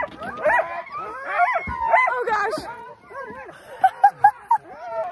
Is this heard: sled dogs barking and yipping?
yes